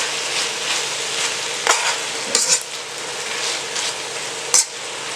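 Eggplant and green beans cook in Thai red curry with chicken, giving a steady close simmering sizzle with a few brief clinks and stirring knocks scattered through it.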